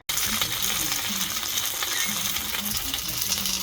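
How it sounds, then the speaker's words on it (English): Loud, steady sizzling and crackling of Chinese beef dumplings frying in a hot pan fills the whole clip, close and continuous. "when I'm frying them, I'll bring you back then"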